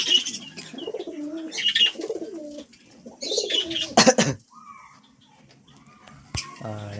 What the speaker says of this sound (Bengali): আর বাকি পায়রাগুলো এখানে আছে।